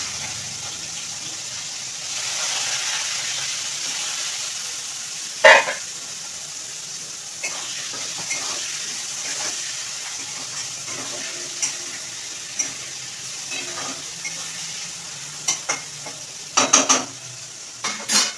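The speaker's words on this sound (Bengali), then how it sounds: "আলু আর উচ্ছে বসিয়ে দিলাম, ঠিক আছে। এটা ভাজা হোক" Potato and bitter gourd fry in a pan with a steady sizzle, broken by occasional sharp clinks and scrapes of a spoon against the pan.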